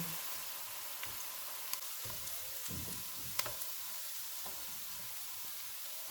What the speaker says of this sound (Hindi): इनमें 1 टीस्पून अदरक और लहसुन का पेस्ट डालेंगे और इसको 1 मिनट तक भूनेंगे